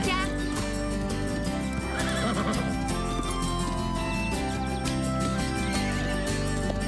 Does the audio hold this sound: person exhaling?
no